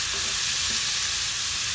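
Fresh medium tomatoes go into a pan of softened, sautéing onions, giving a loud, dense, continuous sizzle that fills the whole moment with no pauses.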